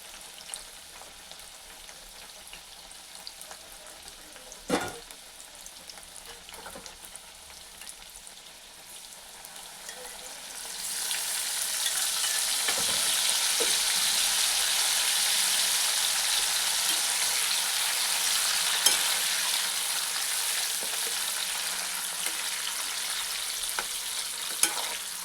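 Banana chips deep-frying in hot oil, a soft crackle at first that swells midway into a loud, dense, steady rain-like sizzle, with a few occasional utensil knocks nearby.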